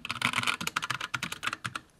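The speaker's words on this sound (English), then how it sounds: "So I can feel this when I press down a key, and it, you hear it when it bottoms out" Keys on an inexpensive custom mechanical keyboard with tactile Gateron brown switches bottoming out, heard as a quick close run of crisp clacks and thocks in an uneven typing rhythm, with no clicks and no voices.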